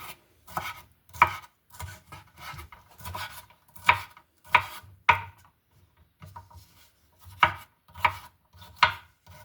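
A knife slicing bell pepper on a cutting board, about a dozen crisp chops in an uneven rhythm with short pauses between, close and clear with no talking.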